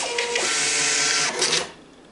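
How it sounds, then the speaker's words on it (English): A Star TSP100iii USB receipt printer runs a test receipt, its thermal print head producing a loud continuous buzzing whir that briefly pauses and surges again before stopping, with no talk. "we should be able to test the receipt printer"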